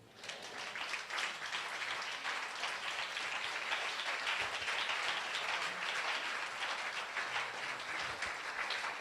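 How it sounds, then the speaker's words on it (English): A church congregation clapping hands for the Lord during a prophet's service: sustained, loud, dense applause from many people that swells quickly and holds steady, with no voices standing out. "So clap your hands for the Lord."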